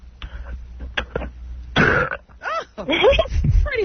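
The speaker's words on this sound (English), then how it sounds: "Let's hear you burp." A man's morning burps on a talk radio show, a few loud, close, croaky belches with short pauses between them, and voices chat around them.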